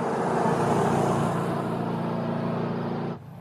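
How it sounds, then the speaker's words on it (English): A truck in an animated cartoon road scene approaches fast, a steady loud engine and road roar that holds evenly, then cuts off abruptly near the end. "That truck's coming up on us awful fast."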